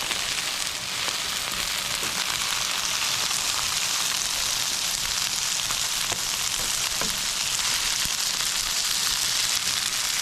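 Brussels sprouts fry in a hot pan with a steady, dense sizzle that holds throughout, close and fairly loud, with a few faint clicks of stirring.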